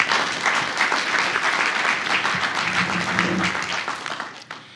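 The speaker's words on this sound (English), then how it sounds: "how about a round of applause for over 100 years of leadership and service from RAFV's volunteer" Sustained applause from a gala audience at an RAFV 100th anniversary celebration, dense clapping from a large crowd filling the room, loud and steady before tapering off at the end, with a faint voice mixed in briefly.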